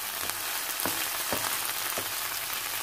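Onions fry in a few spoonfuls of olive oil in a pan, giving a constant, close hiss with a few soft pops scattered through it.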